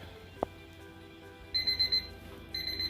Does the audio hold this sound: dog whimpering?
no